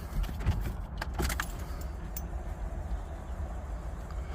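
Keys jangle and click in the ignition of a 2008 Ford E350 with a 6.0 Powerstroke diesel, a few quick metallic rattles early on, followed by a quiet low hum inside the van.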